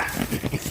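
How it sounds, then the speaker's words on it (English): A young dog lets out a brief, close snuffling grunt or whine outdoors on a sunny day. "She's a funny dog."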